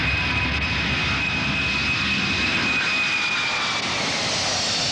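Large jet airliner carrying nearly 300 passengers, its engines roaring loudly and steadily with a thick broadband rush and a thin high whine, close and continuous with no voices.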